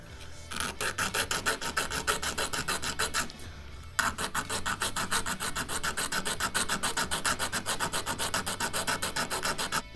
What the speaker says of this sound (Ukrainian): Зараз я от ще попиляю трошки